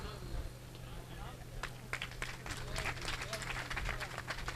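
A crowd claps at an outdoor Hindi comedy poetry gathering during a water festival, a modest scattered patter of hands that grows denser toward the end, fairly faint and mixed with murmuring.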